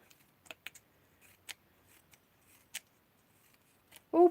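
Scissors snipping a fringe into paper for craft daffodils, a handful of faint, sparse clicks spread across a few seconds, followed by a brief burst of voice at the end.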